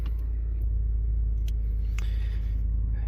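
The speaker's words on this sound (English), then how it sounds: "It says after you reconnect the negative, let the truck run for 10 minutes." A 2013 Ford F-150 with the 5.0 engine idles steadily after a throttle body install, a loud, constant low rumble with a few faint clicks over it.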